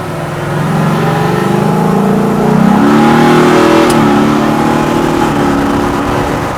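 A classic Ford Bronco engine accelerates close by, revving up in a rising, steady roar for several seconds with no voices over it.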